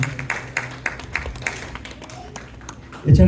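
Applause for an absent director at a cultural event, a scattered patter of claps running about three seconds before a louder burst at the end.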